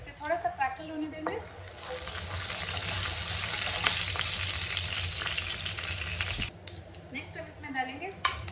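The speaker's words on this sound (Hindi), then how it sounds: "और इसे थोड़ा सा क्रैकल होने देंगे" Half a teaspoon of cumin seeds crackles and sizzles in two to three teaspoons of hot oil in a pan, a dense steady hiss, with a person speaking briefly at the start and again at the end.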